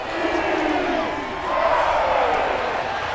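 Simulated home crowd at an NFL football game in Madden NFL 22, Jets versus Panthers, a steady loud roar of cheering stadium noise swelling slightly midway, continuous throughout with no pauses.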